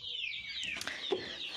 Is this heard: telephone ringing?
no